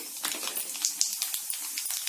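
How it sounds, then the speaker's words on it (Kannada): Rapid crackling pops and spits of mustard and cumin seeds spluttering in hot oil, irregular and close, over a faint hiss. "ಈಗ ಕಾಯ್ದಿರೋಂಥ ಎಣ್ಣೆಗೆ ಒಗ್ಗರಣೆ ಹಾಕೊಳ್ಳೋಣ."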